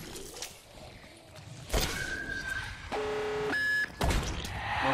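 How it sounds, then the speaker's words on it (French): Round-change chime from Call of Duty Black Ops Zombies on the Moon map: a sustained electronic ringing tone with stacked harmonic layers, loud and alone, following quieter game ambience and a sharp hit. "Chaque sonnerie que vous entendrez, ça sera une manche en plus."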